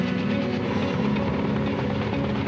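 A Lockheed Martin-Kaman K-MAX helicopter flies nearby with a loud, steady rotor thump and a constant engine roar that stays even throughout, with no voices.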